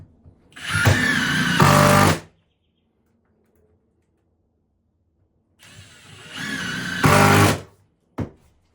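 Power drill driving 3-inch screws into a wooden support bracket for a wall-mounted sauna bench: two sustained whirring runs, each rising in pitch near the end, with a brief final burst, close and loud.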